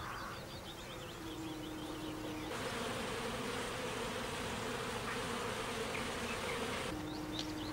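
Bees hum steadily near beehives in a rural mill garden among fruit trees. The close, continuous buzzing comes with a few faint bird chirps in the background.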